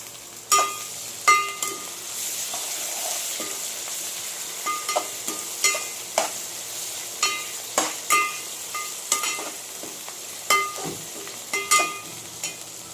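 Onions fry for a tomato mutton curry with curry leaves, coriander and mint, giving a steady sizzle broken by repeated sharp clinks and scrapes of a spoon stirring against the pan, loud and close.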